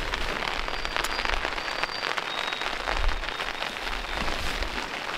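Steady rain patters densely on a surface at a lakeside bivouac, a continuous crackling hiss of drops with occasional louder splats.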